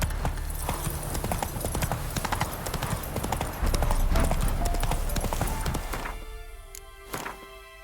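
Horse hooves gallop in The Witcher 3, a loud, rapid clip-clop rhythm that runs steadily, then slows into a few separate hoof thuds near the end.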